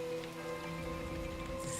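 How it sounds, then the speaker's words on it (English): Rain in the city-building game SimCity, a soft patter of drops on surfaces over faint tonal game music, quiet and steady. "So we've got a bit of rain."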